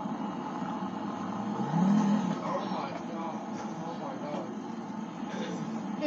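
A car in the GTA video game pulls away, a steady mid-pitched engine hum with a short rise in revs early on, then a smooth drone, with muffled voices faintly underneath.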